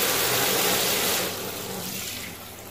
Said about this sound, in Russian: Легкой струечкой воды, да?